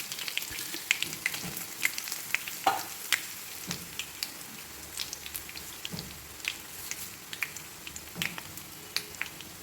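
Dried red chilies and curry leaves fry in hot oil with a quiet, steady sizzle, broken by irregular sharp crackles and pops.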